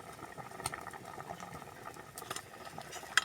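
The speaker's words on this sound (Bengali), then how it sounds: "আমার ঝোলটা ফুটে গেছে" Fish curry gravy with mango, eggplant and potato bubbles in a pot, a soft, steady simmering crackle with occasional small pops, quiet and close with no talking.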